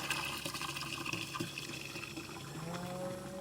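Water runs and splashes steadily on a farm while animals are watered, a continuous close trickling wash with faint background sounds.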